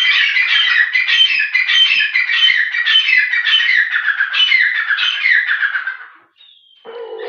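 A white Iranian partridge (teetar) calls in a long, loud run of harsh, rhythmic squawking notes close by, repeating steadily for several seconds before breaking off into a brief pause and a final few calls.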